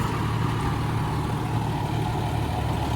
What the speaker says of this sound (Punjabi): ਆਰਾਮ ਨਾਲ ਜਾ ਰਿਹਾ ਟਰੈਕਟਰ